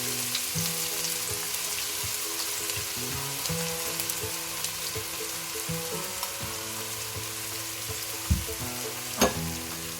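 Chopped onions, cinnamon and bay leaf sizzle steadily in hot oil in a pan, a continuous close frying crackle with a couple of sharper pops near the end and no talking.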